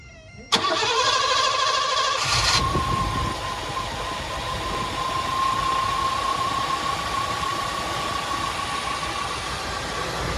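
A Mercedes W126 engine cranks briefly and then catches, settling into a steady, even idle with a constant tone that carries on for about eight seconds, close by and with no talking.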